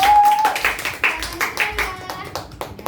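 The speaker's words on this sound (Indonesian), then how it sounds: "Berikan aplaus tepuk tangan." Brief clapping from elementary students in a classroom, a few quick bursts of hand claps mixed with children's voices and talk.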